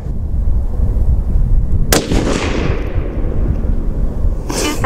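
A single loud rifle shot from a Ruger Precision Rifle in 6.5 Creedmoor, fired during handload charge testing: a sharp blast followed by a long fading rumble that echoes over steady wind-like outdoor background noise.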